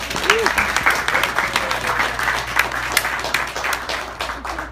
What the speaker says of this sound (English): Round of applause for the moms.